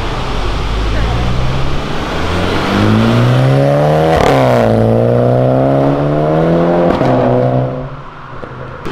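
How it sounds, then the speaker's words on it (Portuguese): A car engine revs up loudly nearby, its roar climbing steadily in pitch as it accelerates on an avenue before dropping away at the end. "ele saiu acelerando de boa, deu pra ouvir o ronco"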